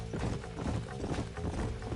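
Horse hooves clip-clop at a steady gait in the Red Dead Redemption video game, a dense rhythmic patter of thuds under constant background hum, close and fairly loud.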